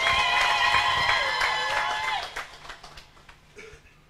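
Guests at a South Sudanese wedding in Juba cheer and ululate loudly, then scattered clapping continues in uneven bursts as the voices fade.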